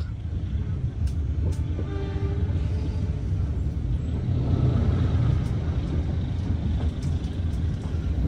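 Serayu passenger train running near Purwakarta Station, heard from inside as a steady, loud low rumble of wheels and carriage with faint higher squeals and clanks throughout.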